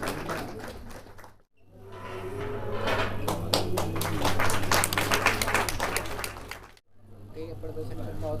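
Applause from an audience at a Ramlila stage performance by women artists at Garhwal Bhawan, Delhi, a moderate clapping wash under a steady electrical hum, cut off by short silences at either end, with talk heard briefly.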